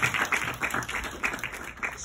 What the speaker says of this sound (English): Round of applause for Anna Fishbein.